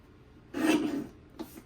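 A paper trimmer blade slides across scrapbook paper in one close, soft rasping stroke lasting about half a second, then a shorter scrape follows in a quiet room.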